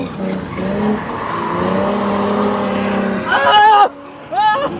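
A Nissan Z drifting on a track, tires squealing in a long sustained howl with engine roar, ending in sharp rising screeches, loud and close.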